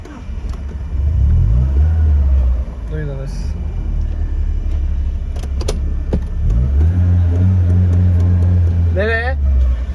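A car engine revs and idles while the vehicle is maneuvered into position, with several rising revs and a steady low rumble throughout; people talk over it.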